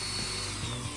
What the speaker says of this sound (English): I was drilling holes for my eyelets in the lure